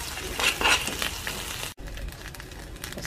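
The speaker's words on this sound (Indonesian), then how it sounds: "Bumbu rawonnya kita oseng-oseng dulu." Rawon spice paste stir-fried in a hot pan, a close, dense sizzle with scraping stirs that drops out briefly midway before resuming more quietly.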